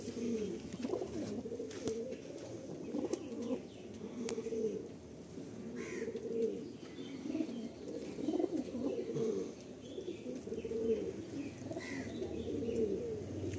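Madrasi pigeons at a loft coo in a continuous low, rolling chorus, several birds overlapping nearby with a few faint chirps mixed in.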